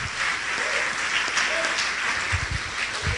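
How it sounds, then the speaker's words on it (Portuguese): A church congregation applauding, a sustained dense wash of clapping from many hands that holds steady throughout without a break. "Vamos dar uma salva de palmas a Jesus."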